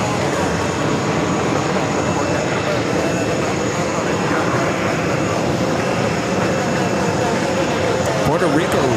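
A jet airliner in Puerto Rico livery at JFK airport, a sustained loud engine roar throughout, with people talking over it.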